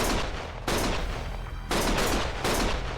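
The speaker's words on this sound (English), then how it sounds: "Stop shooting!" Bursts of gunfire in the video game Lost Judgment, loud rapid volleys of shots in several sustained waves separated by brief lulls, with no talk.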